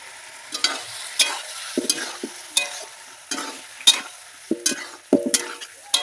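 Egg and eggplant curry is stirred in a pan. About nine sharp scraping strokes fall at an uneven rhythm over a soft, steady sizzle of frying, close and clear with no talk.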